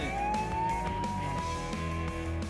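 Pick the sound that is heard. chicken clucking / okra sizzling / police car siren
police car siren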